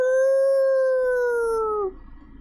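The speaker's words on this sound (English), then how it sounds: "I'm assuming that was a wolf's howl." A wolf howl from the visual novel game Tsukihime rings out loud and sustained as a single smooth, slightly falling cry that fades after about two seconds.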